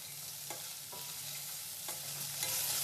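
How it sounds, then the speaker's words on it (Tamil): Onions sauté in a pan for noodles, making a faint, even background sizzle with a few light spatula scrapes spaced apart, calm and unbroken by speech. "வெங்காயம் போட்டுட்டு அப்புறம் அப்படியே கொஞ்சம் சீடு பண்ணுங்க."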